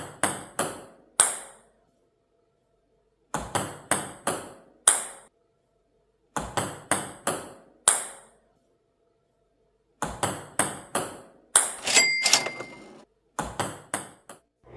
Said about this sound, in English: This serve is a side backspin serve because the bat movement goes from side to side and the bat brushes the bottom and the side of the ball downwards.